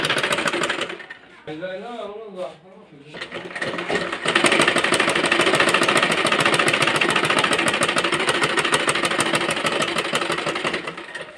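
A sewing machine stitches a child's dress with a loud, fast, even rattle. It starts briefly, pauses, then runs continuously for several seconds while someone speaks over it.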